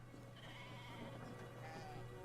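Faint sheep bleats in the game Brothers: A Tale of Two Sons, soft and distant under a steady low background hum.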